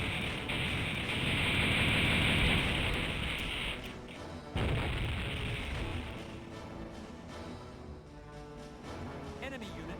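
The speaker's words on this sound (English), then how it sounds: "All guns, prepare for a barrage." A sustained weapons barrage from the space battle game Infinite Space, dense roaring and crackling blasts that stay loud and continuous, with a sharp burst partway through, under a voice speaking.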